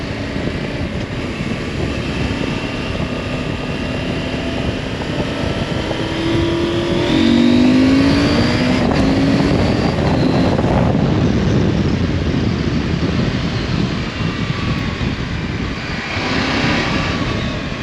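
Husqvarna Norden 901 motorcycle ridden on the road, its 105-horsepower engine droning continuously with rising and falling pitch as it pulls, mixed with heavy wind rush.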